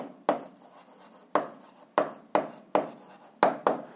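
Pen strokes on paper while writing out the answer to a 7th-grade algebra exercise, several distinct scratchy bursts in an irregular rhythm, close and fairly quiet, with no talking.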